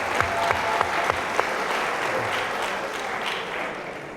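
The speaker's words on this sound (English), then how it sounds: "Let's give those four athletes a round of applause." Loud audience applause at a university athletics awards night honoring athletes, a few distinct claps early on swelling into a dense, sustained roar of hands from a large crowd.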